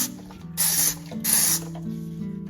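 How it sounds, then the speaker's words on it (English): Two sharp, close bursts of Dawn Power Wash spray hiss out of a trigger bottle, each about a third of a second long, set against a quiet kitchen. "And then 1 spray of the Dawn Power Wash."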